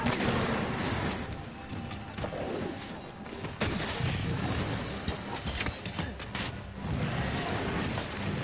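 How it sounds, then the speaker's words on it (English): Explosive booms and crackling blasts in the video game Monster Hunter World, dense and loud, with several sharp impacts over a continuous rumbling wash of battle noise. "explosion."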